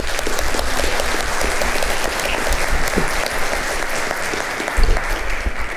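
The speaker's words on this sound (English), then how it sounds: "our speakers were excellent and they deserve another round of applause" Steady, dense applause from an audience, continuous clapping at even loudness throughout with no voices.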